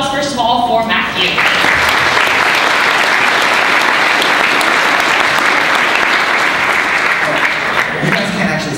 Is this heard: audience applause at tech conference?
yes